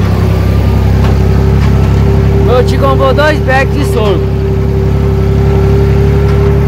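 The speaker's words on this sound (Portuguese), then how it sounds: "O trator Valmet 880 enchendo a carreta com guincho, os dois bags" A Valmet 880 tractor engine runs loud and close with a steady low drone while sorghum bags are loaded onto a trailer with a winch, and someone speaks over it partway through.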